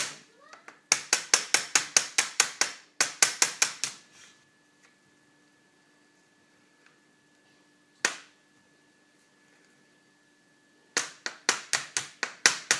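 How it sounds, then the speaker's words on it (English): Rapid series of sharp metallic hammer taps in bursts, close and crisp, driving a metal pin through a Bugaboo Cameleon stroller's height-adjustment mechanism, with a lone strike in a quiet pause before another quick volley. "You are going to hammer now the pin back through."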